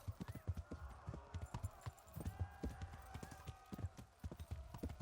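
A horse gallops in Kingdom Come: Deliverance with a rapid, rhythmic clip-clop of hooves throughout, and a brief whinny rises over the hoofbeats.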